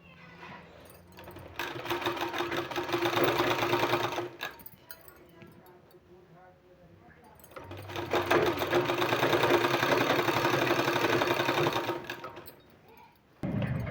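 A sewing machine runs in two long, steady bursts while stitching along both sides of a narrow fabric strip for a sleeve design, its close mechanical whir separated by a pause with soft handling sounds.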